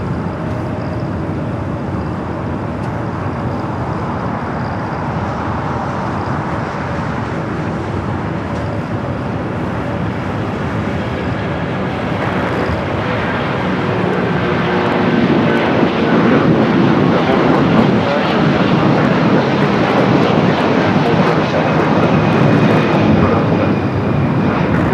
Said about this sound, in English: All right, the A330 now rocking and rolling.